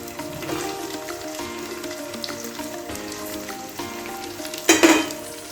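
French beans, carrots and other vegetables sizzle steadily in a hot pan, a continuous close frying hiss with a brief louder burst of sizzling near the end.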